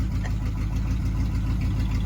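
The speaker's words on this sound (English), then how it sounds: "And that is idling after God knows how long it sat there." A 1984 Chevrolet Monte Carlo engine fitted with a new Edelbrock carburetor, long left sitting in a shed, idles steadily with a low, even rumble throughout, close and continuous with no voices.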